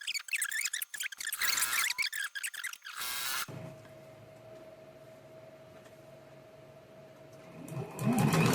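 A sewing machine stitches quilt fabric pieces along a quarter-inch seam, first in short stop-start bursts of rapid needle chatter, then a quieter steady run as the fabric is handled near the close.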